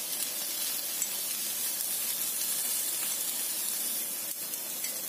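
Tofu satay skewers sizzling on a grill, a steady dense hiss of fat and moisture crackling throughout, close and even in loudness with no talk.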